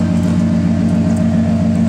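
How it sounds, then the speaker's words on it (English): An old red truck's engine runs steadily through its exhaust, a smooth, even, throaty drone recorded close with no variation in loudness. "Let y'all come back in here and hear this exhaust."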